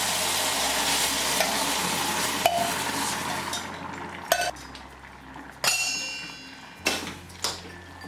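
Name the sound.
stirring potato curry with salt in a pan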